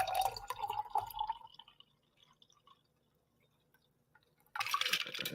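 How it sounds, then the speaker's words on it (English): Optimist Drinks non-alcoholic botanical spirit is poured into a glass with a brief liquid splash and drip. A near-silent pause follows, then a burst of louder noise. "So we're gonna go ahead and pour this into our glass."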